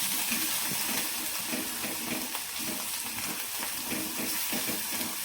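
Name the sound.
onion-garlic masala being sautéed in a pan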